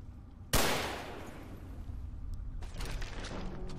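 Automated turret gunfire in Fallout 3: one sharp, loud burst opens with a long decaying tail, and after a pause a rapid, denser volley of shots rattles on at moderate distance.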